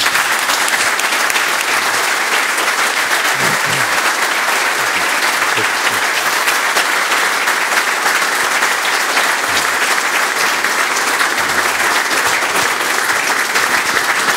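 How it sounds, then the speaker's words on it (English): Loud, dense applause from an audience thanking a panel on LNG shipping, a continuous roar of many hands clapping throughout, with faint voices now and then beneath it. "I think our panelists deserve a round of applause."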